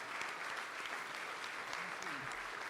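Audience applause for award honorees at a lifetime achievement awards ceremony, a steady, even clapping from a crowd sustained throughout, with faint voices underneath.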